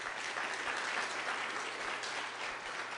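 An audience applauding debaters after an origins debate, a steady wash of clapping from a crowd, moderately quiet and continuous with no voices over it.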